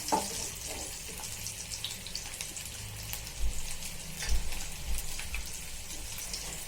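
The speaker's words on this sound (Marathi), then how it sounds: "छान आपण फ्राय करून घेऊया" Masala potatoes fry in a pan with a steady, dense sizzle and crackle, close and moderately loud, with a few brief louder pops and no voices.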